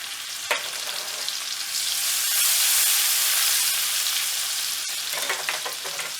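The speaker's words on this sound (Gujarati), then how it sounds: "હવે આપણે મરચાં એડ કરીશું" Green chillies dropped into hot oil already frying asafoetida and garlic: a loud, close sizzle swells to a hissing peak, then settles into steady crackling with a few sharp taps.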